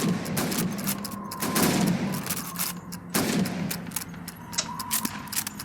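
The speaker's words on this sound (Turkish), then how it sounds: "You have 15 seconds to shoot the helmets." Rifle shots ring out in a Call of Duty 2 training range as targets on helmets are hit, with several sharp, separated reports and echoing tails over a steady ambient rumble.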